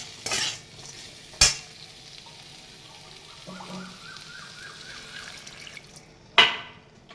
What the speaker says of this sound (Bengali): এইবারে দিয়ে দেবো মাছ আর কাঁচা লঙ্কা আদা কটা। নেড়ে চেড়ে একটু জল দিয়ে দেবো।